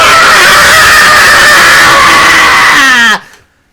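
A loud, sustained scream in the Ace Attorney video game, a shrill, strained cry lasting about three seconds that wavers and then breaks off abruptly into near silence.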